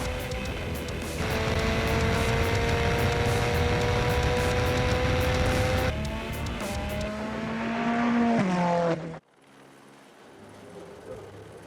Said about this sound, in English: The Ferrari V8 engine with double turbo finds here the best conditions to express full torque and power